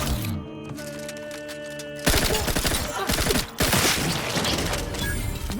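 Gunfire in The Outer Worlds 2 video game: a dense, loud volley of rapid overlapping shots bursts in after a short tonal lead-in and keeps pounding for several seconds.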